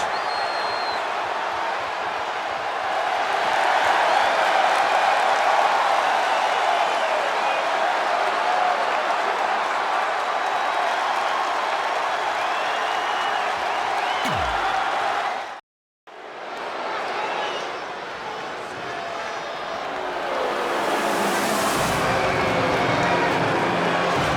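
Arena crowd in the WWE 2K20 wrestling video game applauding and cheering after a match, a dense steady roar that cuts out for a moment before resuming.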